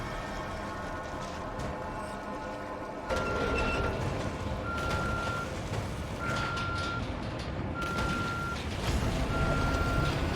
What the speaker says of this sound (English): we're gonna wait until we hear the beeping and then throw it